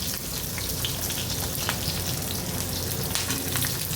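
A large onion fries in hot oil in a mutton curry kitchen, giving a steady, dense sizzle that holds level and close throughout with no pauses.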